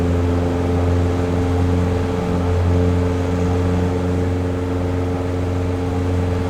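Flysimware Velocity XL aircraft climbing after takeoff on a warm Florida afternoon in a flight simulator, a steady droning engine hum with strong low tones holding constant and loud throughout.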